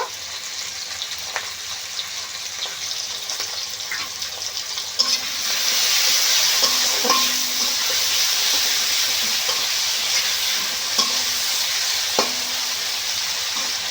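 Onions and tomatoes with a little salt frying in a pan, a continuous close sizzle that swells louder midway, with occasional soft clinks and stirring scrapes.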